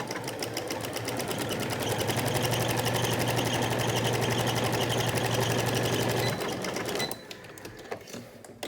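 A sewing machine stitches a cloth face mask in one fast, even run of needle strokes lasting several seconds, then stops, leaving a few quiet clicks.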